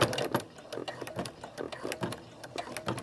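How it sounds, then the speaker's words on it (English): Sewing machine stitching a seam on a quilted throw pillow with an invisible zipper, a rapid rhythmic clatter in short bursts and pauses, close and fairly loud. "That way I can just stitch all the way to my original seam and reinforce there."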